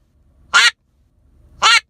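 A hunter's duck call blown to imitate a hen duck, giving two loud, raspy quacks about a second apart, close and clear over a quiet background.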